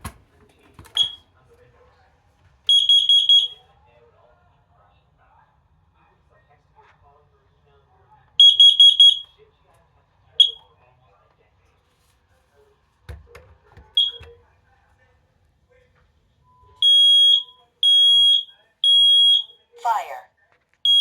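Home smoke alarms being tested one by one during a weekly check: loud, shrill electronic beeps in short repeated bursts with gaps of quiet between them, near and piercing, and a person talking briefly in between.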